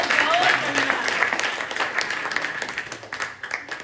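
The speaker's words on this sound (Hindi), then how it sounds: "एक बार ताली बजाइए" Audience clapping at a Hindi poetry recital (kavi sammelan), a steady wash of applause filling the hall, with a voice talking over it near the start.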